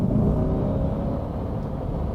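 A 2020 mid-engine Chevrolet Corvette with about 495 horsepower pulls through traffic, its engine a steady low rumble and whir heard from inside the car, with no talk over it.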